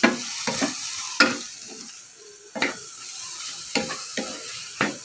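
Ampalaya (bitter gourd) stirred in a frying pan over a steady hiss of frying, with regular spatula scrapes and taps spaced about every half second to second, close and fairly loud.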